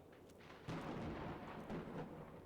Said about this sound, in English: it was probably the game did a loud thunderstrike